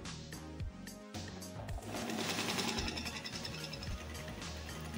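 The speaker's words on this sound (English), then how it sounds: "As you can see, my tabletop sewing machine is now moving the fabric." A tabletop sewing machine runs steadily as it feeds fabric, a fast, even mechanical stitching chatter that stays close and loud throughout with short pauses near the start.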